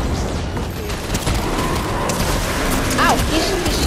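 Fortnite gunfire and booming explosions make a loud, dense, continuous barrage during a squads match, with players talking over the noise.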